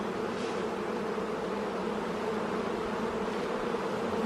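Honeybees buzz in a steady, dense drone during a hive inspection, agitated and continuous at moderate loudness with no talking.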